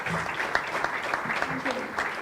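Audience applause at a felicitation function honouring a professor, a dense continuous wash of clapping with voices mixed in.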